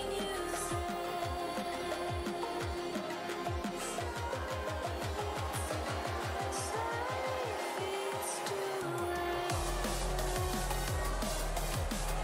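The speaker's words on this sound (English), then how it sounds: "Is the sound effects of the cars now more hearable?" Formula Zero racing cars in a Canada race, repeated engine whines sweeping up and down through gear changes as cars pass, loud and continuous with rapid revving bursts and no talk.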